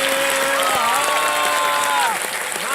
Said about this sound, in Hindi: एक बार फिर तालियों के साथ आपके साथ।